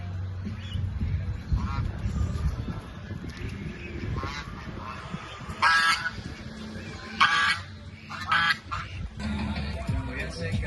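Guinea fowl call in a noisy pen, with harsh honking and cackling cries rising over a steady low rumble and shuffling.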